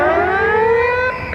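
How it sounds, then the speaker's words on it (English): A loud half-time siren at the Basin Reserve rugby ground wails with a single sustained, slowly rising tone that cuts off near the end, heard alone over faint crowd ambience. "That's the half-time siren here at the Basin Reserve."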